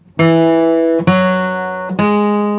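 Three strummed acoustic guitar chords in a bluegrass style, amplified through a pickup, each ringing out bright and full before the next downstroke.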